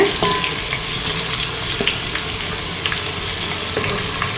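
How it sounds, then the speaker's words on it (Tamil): Thinly sliced onions frying in a pan for biryani, a steady close crackling sizzle with scattered scraping stirs, loud and continuous without talk. "இப்போ வந்து நம்ம வந்து கலந்து வதக்கி விட்டுடலாம். வெங்காயம் வந்து நல்லா கோல்டன் ப்ரௌனாக ஆகணும்."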